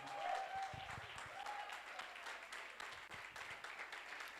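A church congregation applauding, a sustained wash of many hands clapping at moderate distance, fairly quiet and even throughout, with faint voices mixed in.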